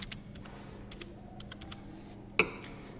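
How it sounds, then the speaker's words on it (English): Someone types a file name on a computer keyboard: a steady run of soft, quick key clicks, then one sharper, louder keystroke near the end, like a final Enter press. "Give a name from the keyboard."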